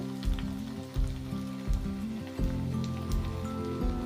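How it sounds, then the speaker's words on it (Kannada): Potato puffed rice pakoda frying in hot oil until golden brown, a steady close sizzle broken by repeated low thumps and clatters at roughly regular intervals, no talking. "ಇವೆಲ್ಲ ಗೋಲ್ಡನ್ ಬ್ರೌನ್ ಬರೋವರೆಗೂ ನಾವು ಎಣ್ಣೆ ಒಳಗೆ ಫ್ರೈ ಮಾಡ್ಕೋಬೇಕು"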